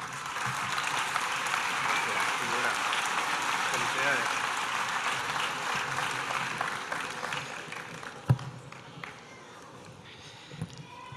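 A festival audience in Graus claps steadily to welcome the town's mayor, loud and continuous at first, then dying away into scattered claps and a few thumps while people talk.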